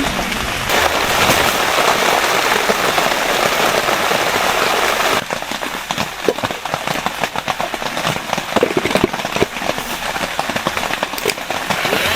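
Heavy mountain rain at a campsite in Malico hisses loudly and steadily, then turns to a dense patter of drops on a hard surface, with occasional louder drips.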